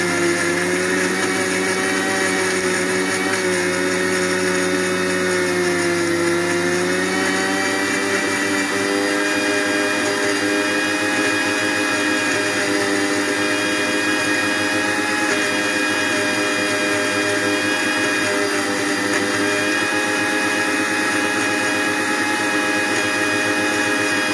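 Kitchen mixer grinder blending ivy gourd chutney with coriander and a little water: a loud, continuous whirring motor drone held steadily throughout, with a slight pitch dip early on.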